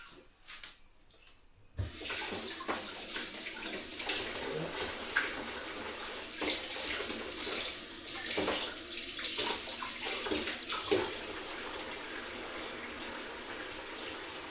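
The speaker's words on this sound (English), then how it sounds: "I'm going to be taking some of these out and just give them a rinse off under the tap" Items rinsed under a running tap while making wine at home: a steady gush of water splashes continuously at moderate level, with brief shifts as things pass through the stream, and no talking.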